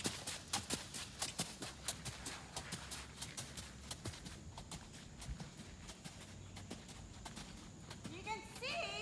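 A Clydesdale horse cantering under a rider posting: a quick rhythmic run of hoof beats that softens midway, with a voice speaking near the end.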